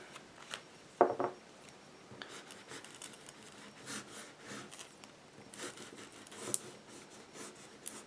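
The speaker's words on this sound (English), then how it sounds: "So we're going to cut 2 pieces of cardstock, 1 inch by 4 inches." Scissors cutting cardstock into small strips up close, a series of crisp snipping and slicing strokes with a sharper snip near the start, fairly quiet with no talking.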